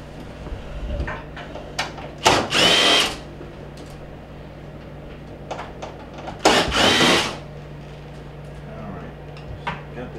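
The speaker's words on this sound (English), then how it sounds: "that exposes the 2 1/4-inch screws that I'm going to have to remove" A power drill backs out screws from a GE refrigerator panel in two short, loud whirring bursts a few seconds apart, with quieter handling noises between.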